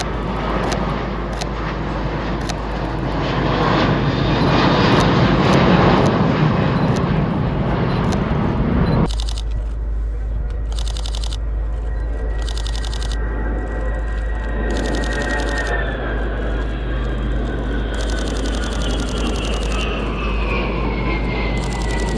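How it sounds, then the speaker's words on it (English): An Italian Air Force C-27 Spartan at RIAT after its air display, heard as a loud broadband aircraft roar that fades and gives way to a distant, steady engine drone with rising and falling tones. "this is the way we put to an end the display of the Italian C-27 Chase Spartan"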